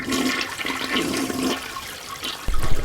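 A toilet flushes nearby in one short, rushing gush of water, followed by a louder burst of draining and refilling at the end.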